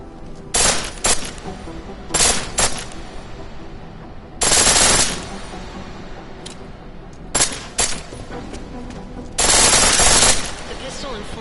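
A pistol fired on full auto in Deus Ex Mankind Divided lets off several short, sharp bursts of rapid shots, loud and close, separated by quiet gaps over a low game ambience.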